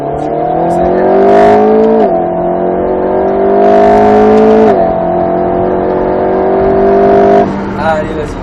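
An Alpine A110 S accelerating hard on the Grand Sambuc race circuit, its loud engine note climbing steadily with a brief dip at a gear change, under a driving instructor's voice talking throughout.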